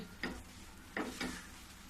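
Raw mango chutney syrup in a pan with the gas turned off, three faint spoon scrapes, one early and two close together later, quiet and near.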